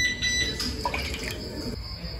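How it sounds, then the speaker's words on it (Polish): Water is poured into a large cooking pot of meat, splashing and trickling unevenly at close range for a couple of seconds. Faint thin tones ring over it. "No to dolewamy wody."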